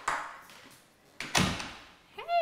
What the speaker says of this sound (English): I always love a Dutch door.